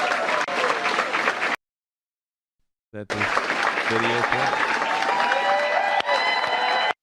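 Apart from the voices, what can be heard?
crowd applause in a played speech video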